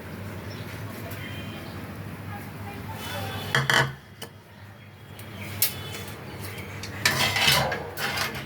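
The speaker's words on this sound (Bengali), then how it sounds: "আমি এখন আমটা ধুয়ে গ্রেট করে নেব" Peeled raw mango grated by hand in a home kitchen, a run of rough scraping strokes with occasional clinks of metal utensils, close and fairly quiet.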